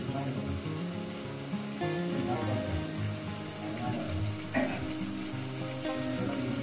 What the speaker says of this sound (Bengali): কষানোর মধ্যে দিয়ে দেবো একটু ঘি।